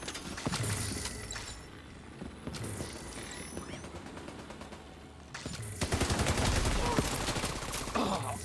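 Video game gunfire against hostiles: bursts of rapid automatic shots and fusillades, loud and close, building into dense continuous firing near the end, with in-game voice and speech mixed in.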